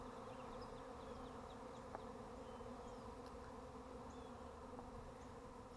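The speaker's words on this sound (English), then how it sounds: "now here they are swarming again" A small swarm of honeybees buzzing steadily around a hive box outdoors, a dense continuous drone with no talk over it.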